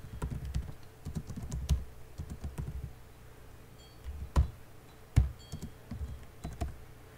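Typing on a computer keyboard to enter a name into a web search, with quick bursts of key clicks, short pauses and a few louder isolated key strikes, close and fairly quiet with no talk.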